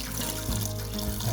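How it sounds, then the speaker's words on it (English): Water poured steadily into a pot of vegetables and sweet potato for homemade dog food, a continuous close gushing splash with no voices. "Need a cup or so of water, just enough water that it's gonna cover our vegetables and our stew and our sweet potato."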